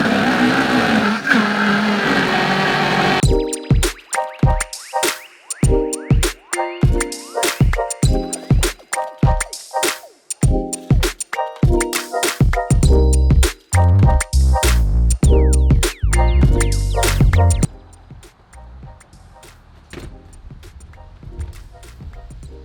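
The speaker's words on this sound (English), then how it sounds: "the Vitamix actually did a pretty good job in terms of blending it" A Vitamix blender whirs through a high-protein recipe, loud and close, in rapid pulsed bursts that build into a sustained, churning roar before dropping to a quieter hum.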